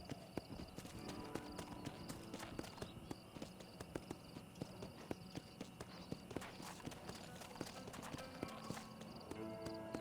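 Horse hooves clip-clop at a steady walking rhythm in the Red Dead Redemption video game, a crisp repeated clopping that runs throughout amid faint ambient game sound.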